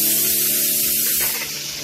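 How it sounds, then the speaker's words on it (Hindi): Onions hit hot oil already holding asafoetida and carom seeds for an arbi curry tempering, giving a loud, close sizzling hiss that fades into a quieter steady fry. "अब हम इसमें प्याज का तड़का लगाते हैं।"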